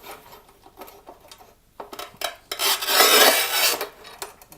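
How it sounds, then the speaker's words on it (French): A tile-cutting machine scores and cuts through glass mosaic tile in a bathroom installation, giving a gritty, scratchy grinding that swells loudest near the end, mixed with small clinks and rasps. "Et on coupe. Bien sur la machine."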